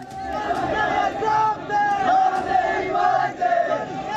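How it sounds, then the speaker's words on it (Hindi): A large street crowd at a protest in Pakistan chants slogans in loud, rhythmic unison, surging in repeated waves of massed voices with a strong, sustained tone. "पाकिस्तान के खिलाफ नारे लगाती भीड़"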